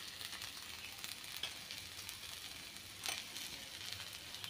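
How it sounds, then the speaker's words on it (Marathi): Green chillies and lemon pieces with a little turmeric sautéing in a pan give a soft, steady sizzle and crackle. A few brief louder pops come through, with no voices. "मिरच्या ह्या चांगल्या परतून घेऊया."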